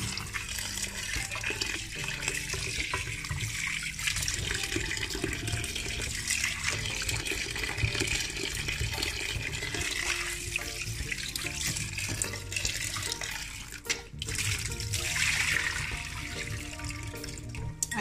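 Sea moss being rinsed under a running kitchen tap, with a steady, close rush of water splashing into a sink throughout, and no talk.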